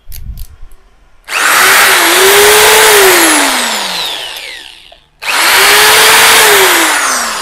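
An OSK8825 710W electric drill with a speed-control knob spins up loudly, winds down, then starts again, its high motor whine dipping a little in pitch as the speed is adjusted.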